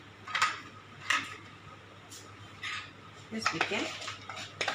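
A spoon clinks and scrapes against a bowl while idli batter with curd is stirred, giving several bright metallic knocks in an uneven rhythm, with a voice speaking briefly over it.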